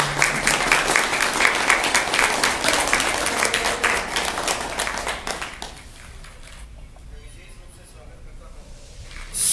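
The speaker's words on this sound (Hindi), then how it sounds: "एक बार जोरदार तालियों से इनका स्वागत करें।" Loud audience applause welcomes a guest taking his place on stage at an Indian event, dense clapping that carries for about five seconds before fading out, leaving quiet room tone and then a voice beginning.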